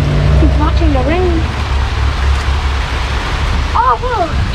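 Heavy rain pours steadily during a storm in Central New York, a dense broad wash of noise heard close by, with a person talking over it at the start and near the end.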